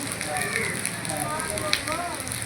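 Heavy rain pours steadily over a crowd of women visiting a goddess's temple for darshan, a dense continuous hiss with faint voices murmuring beneath it.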